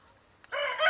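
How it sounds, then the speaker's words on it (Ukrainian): A rooster starts crowing midway, a loud harmonic call close by, following a near-silent opening with a faint distant crow. "це все півні не дають мені говорити"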